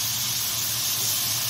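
Water poured into a hot pan hisses and steams loudly and continuously while eggplant moussaka cooks, a close, steady sizzle with no pauses.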